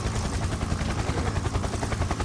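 A helicopter's rotor thumps in a dense, steady, continuous chop, loud and close, filling the whole stretch without any talking.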